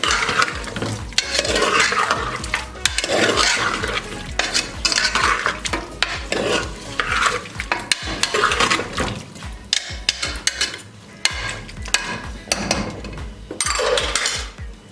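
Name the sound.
stirring chicken and potato curry in pot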